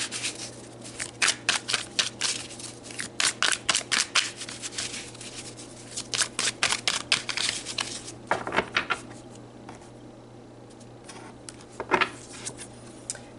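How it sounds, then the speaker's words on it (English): Tarot cards are pulled and shuffled in quick bursts of crisp riffling flicks, close up, followed by a few quieter slides and taps of cards being set down. "So let's pull some more cards on these paths."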